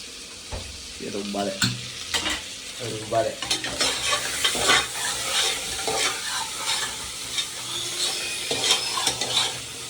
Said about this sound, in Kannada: ನೋಡಿ ಫ್ರೆಂಡ್ಸ್, ಇದೆಲ್ಲ ಫುಲ್ಲು ರೋಸ್ಟ್ ಆಗ್ತಿದೆ